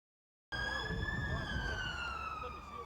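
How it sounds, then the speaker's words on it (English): An ambulance siren wails in after a moment of silence, holding a steady, slowly falling tone over rumbling background noise. "A siren signalling the arrival of another child with bullet wounds."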